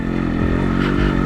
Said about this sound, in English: Because there's so much of wet mud there, the bike just drifts